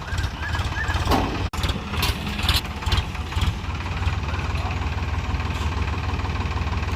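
A diesel engine chugs steadily nearby with a rough, knocking idle, and a sharp click cuts in early on.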